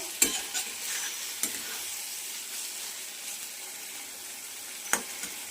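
Red amaranth greens with peanuts frying in oil in a pan, giving a steady soft sizzle with a few sharp clinks from stirring, close and fairly quiet, with no voices.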